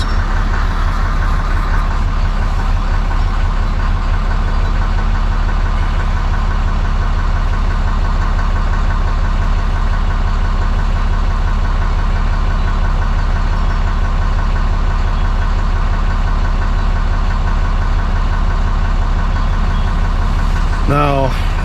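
A Ram 2500 diesel pickup idling with a steady, loud low rumble and faint rhythmic knock, running unbroken and close by, with a brief higher chirping sound near the end.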